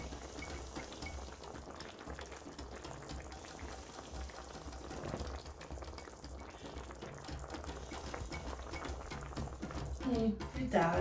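Beef and potato stew simmering in a pot, a steady soft bubbling and liquid burble throughout, growing a little louder near the end, with no talk over it.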